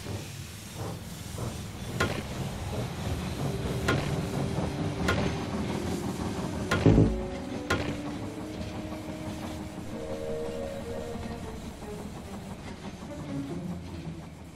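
A train arrives at a station in the strategy game They Are Billions, with a continuous steamy hiss and low rail rumble, a heavy clunk partway through, then a softer sustained settling.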